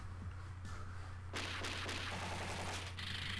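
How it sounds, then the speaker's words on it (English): Heavy machine gun fire in the arcade shooter Metal Slug 3, heard as a dense, continuous rattle of rapid game gunshots that grows louder partway through, over a steady low hum. "Heavy machine gun."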